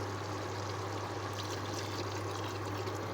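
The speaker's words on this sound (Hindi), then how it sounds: "1 कप पानी का डालेंगे," A cup of water pours into a pot of chicken stew, a steady trickling stream over a constant low electrical hum.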